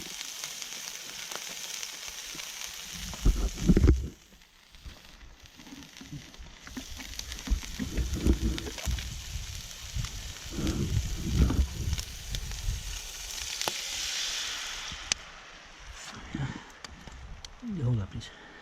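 A seafood pancake with crab, oysters, cockles and mussels sizzles and spits in a hot buttered pan on the beach, a steady frying hiss with occasional stirring scrapes while people talk nearby.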